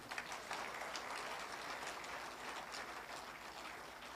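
An audience at an insurance agents' association celebration in a hall gives steady applause, faint and distant, a continuous wash of many hands without clear breaks.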